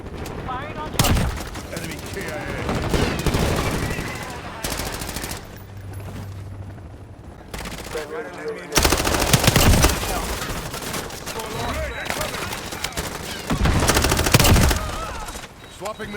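Rapid automatic gunfire from a Call of Duty MW4 beta multiplayer match, dense bursts and volleys throughout with a short lull midway, mixed with game voice callouts and effects.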